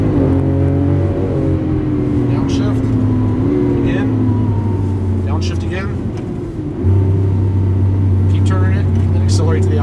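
A green 2012 Lamborghini Aventador on a Las Vegas track gives a loud, sustained engine drone that drops in pitch as it downshifts, then surges back up near the end, with intermittent talk over it.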